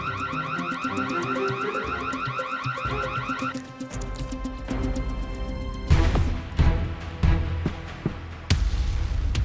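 Anti-theft security gate at a shop exit goes off with a loud, rapidly repeating electronic beeping tone for a few seconds, then gives way to heavier, louder sounds with sharp hits and no speech.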